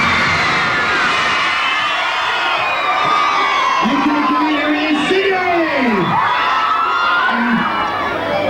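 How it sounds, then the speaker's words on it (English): A large crowd of girls screams and shrieks continuously at a 1987 Grange Hill appearance, loud and dense, with rising and falling wails overlapping throughout. "them girls can be quite frightening when there's about 500 screaming at you"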